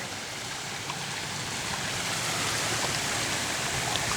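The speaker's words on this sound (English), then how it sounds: "right now it's a very timid waterfall" A small, timid waterfall trickles over rocks on a Maine hiking trail, giving a steady, even rush of broadband water noise throughout with no voices.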